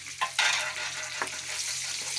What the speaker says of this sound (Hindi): इधर कढ़ाई में हमने लिए हैं 1 कप ऑयल का।